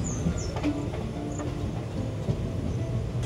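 The Howrah–Chakradharpur Express travels at night toward Purulia, heard from on board as a steady low rumble of rolling wheels with faint rhythmic rail clatter and a few thin high squeals.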